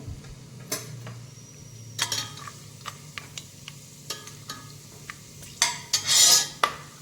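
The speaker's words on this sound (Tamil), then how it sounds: "இப்போ இந்த பட்டை கிராம்பு ஏலக்காய் போட்டுக்குவோம்" Whole cinnamon, cloves and cardamom dropped into hot ghee and oil for chicken biryani give a soft sizzle, with scattered metallic clinks and scrapes of a spoon against the pan and a brief burst of sputtering near the end.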